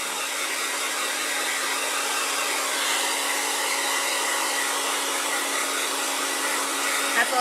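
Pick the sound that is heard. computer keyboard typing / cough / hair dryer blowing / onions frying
hair dryer blowing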